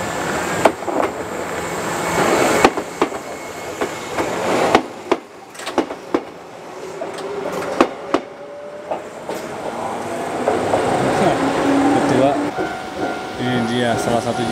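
An old local train in Japan, not a JR service, rolls past nearby with clattering wheel knocks and rumbling carriages, a steady mechanical roar building toward the end.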